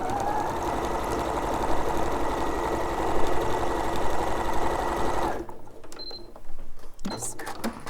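Sewing machine stitching in the ditch along a quilted layer for a teddy's picnic project, a loud continuous close-up whir that stops abruptly, followed by quiet handling clicks and rustles.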